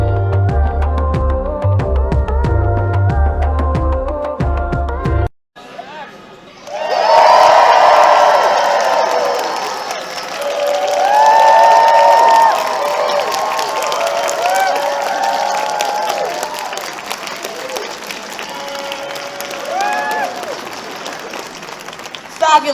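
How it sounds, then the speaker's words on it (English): A rowdy Comic Con North East crowd in Newcastle cheers and applauds after a short burst of music, a loud sustained roar with whoops rising and falling for many seconds. "Fabulous job, Newcastle. They're a rowdy crowd, James."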